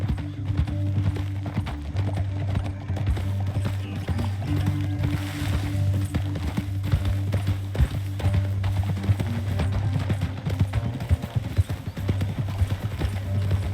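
Horse hooves clop in a rapid, continuous rhythm during Red Dead Redemption 2 gameplay, steady and close throughout. A low droning music bed runs underneath and there is no speech.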